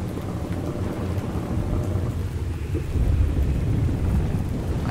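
In the Ark game, steady heavy rain hisses over a deep rolling rumble of thunder that swells toward the end, loud and without talk.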